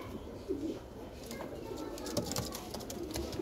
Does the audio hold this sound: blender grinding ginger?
no